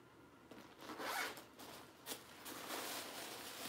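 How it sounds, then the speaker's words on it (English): Zip-top closure on a lightweight vintage 1970s genuine leather tote bag being worked, soft close rasping zipper strokes in a few short bursts, quiet overall. "It's got a zip top closure."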